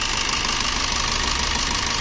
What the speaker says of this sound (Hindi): इस गाड़ी में कस्टमर की कंसर्न थी कि इंजन नॉइज़ ज़्यादा करता है।